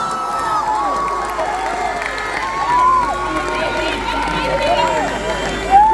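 A large crowd lining the streets at a Limerick hurling homecoming celebration for an All-Ireland win cheers and shouts with a steady roar. Overlapping whoops and raised voices rise and fall throughout, with a louder burst at the end.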